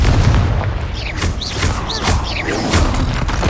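Confringo blasting spell from Hogwarts Legacy, a dense run of loud booming blasts and sharp magical zaps stacked over a constant rumbling battle bed, several impacts close together with no break.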